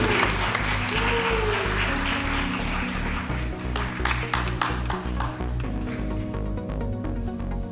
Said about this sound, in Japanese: 慎吾選手に大きな拍手を送ってください。